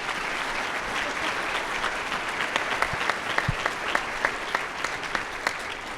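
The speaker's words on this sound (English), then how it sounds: "Let's give our COOs a round of applause" Applause at a ski area COO summit, a room of people clapping steadily and fairly close, with a few sharper individual claps standing out.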